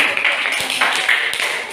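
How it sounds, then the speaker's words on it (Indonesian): A classroom of students applauding group 3 after their presentation, a brief patter of scattered claps that stays fairly soft and thin, with a few sharper individual claps standing out. "tepuk tangan untuk kelompok 3"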